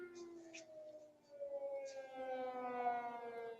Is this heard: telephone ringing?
no